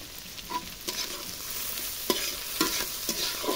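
Chopped bottle gourd fries in hot oil with turmeric and salt, a steady sizzle broken by several sharp scrapes and clinks as a spatula stirs the pan, close and without talk.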